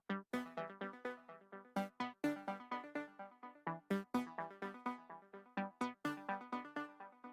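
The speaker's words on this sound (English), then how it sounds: "I pulled up this synth ARP out of Xband and I played the exact same chords on top of it" A synth arpeggio from Xband plays a chord progression in quick plucked repeating notes, each decaying fast in a steady rhythmic pulse, clear and alone.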